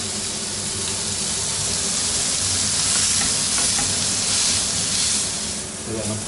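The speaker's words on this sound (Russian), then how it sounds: "стейк будет жариться 6 минут, ребят" A moose steak sizzles and fries on a grill, a steady, loud broadband crackle and hiss that holds evenly throughout with no talking over it.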